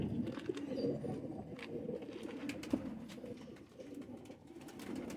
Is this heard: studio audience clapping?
no